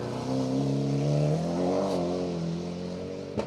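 A Mitsubishi Galant VR4 Group A rally car on a North Wales forest stage, its engine revving hard and swelling then easing off, heard fairly close and alone without talk.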